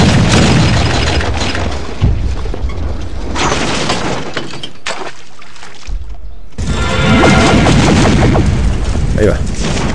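Ship cannons firing in a pirate naval PvP battle in the video game Pirate Core: heavy booming blasts and crashing impacts over a dense, loud roar, with a brief lull before a fresh barrage.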